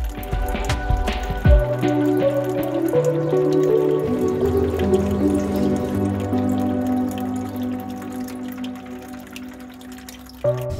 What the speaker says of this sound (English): fill it up nice and slowly with a jug in your hand